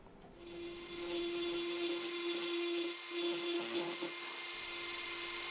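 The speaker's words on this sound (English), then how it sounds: "Once ready, I ground out the crack," A high-pitched rotary grinding tool whines steadily at close range, cutting out a crack in a cast polyurethane resin Cyberman head, with the pitch wavering slightly as it bites into the material.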